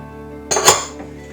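A single brief clink of a utensil against a bowl while hash browns, eggs and melted butter are mixed, close and fairly loud, over a faint steady hum, with no talking.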